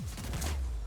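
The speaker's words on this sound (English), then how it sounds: "I shotgun him" A shotgun blast in The Outer Worlds lands as a loud, booming burst that fills the short moment, with no talking over it.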